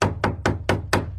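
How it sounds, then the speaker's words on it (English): A hammering sound effect with six evenly spaced, sharp knocks in quick succession, loud and close, with nothing else audible. "hammering,"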